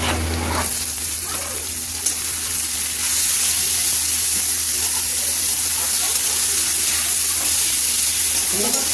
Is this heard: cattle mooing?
no